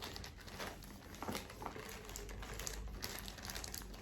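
Steady crinkling and rustling of plastic close by, continuous and moderately quiet, with small crackly bursts.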